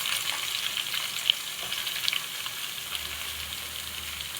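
Sliced onions frying in a pan for a Kerala-style nadan chicken curry, a soft continuous sizzle with faint crackles and occasional small pops, steady and fairly quiet with no talking.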